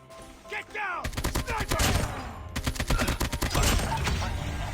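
A KA-47 rifle fitted with a GRU Combo Grip fires in Call of Duty Mobile, with long strings of rapid, close automatic shots in tight rhythmic bursts and faint voices underneath.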